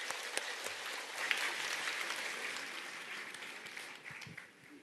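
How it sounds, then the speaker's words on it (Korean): An audience applauds to welcome a speaker onto a stage, with steady, dense clapping from many hands that holds for several seconds and then tapers off near the end. "박사님을 힘찬 박수로 모시도록 하겠습니다"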